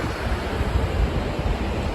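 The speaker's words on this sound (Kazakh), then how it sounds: "Мына жақта өзен ағып жатыр." A mountain river rushes and gushes through a valley lined with hillside hotels, producing a steady, dense roar of moving water with a windy, surf-like wash that stays even throughout, with no voices.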